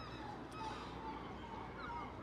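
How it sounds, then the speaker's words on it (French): Noisy flock of birds honking like geese near a beach, a steady dense chorus of overlapping calls carrying on without a break. "Alors, c'est incroyable ce boucan d'oiseaux."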